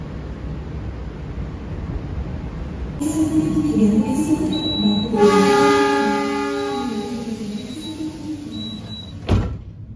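Progo New Generation passenger train travelling from Jogja to Bekasi, first a low steady rumble of wheels on rails, then a louder clattering run with a high whine, a brief horn-like tone and a sharp knock near the end.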